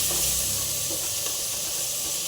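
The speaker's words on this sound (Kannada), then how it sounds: "ಕೊತ್ತಂಬರಿ ಪುದೀನ ಸ್ವಲ್ಪ ಜಾಸ್ತಿನೇ ಹಾಕ್ಕೊಳ್ಳಿ ಚೆನ್ನಾಗಿರುತ್ತೆ ಫ್ಲೇವರು ಇನ್ನೊಂದು ಎರಡು ನಿಮಿಷ ಫ್ರೈ ಮಾಡ್ಕೊಳ್ಳಿ" Coriander and mint leaves fry in a pan for an egg pulav, giving a steady, even sizzle and hiss throughout with no voices.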